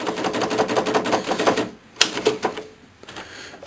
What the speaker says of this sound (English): This is an old German typewriter.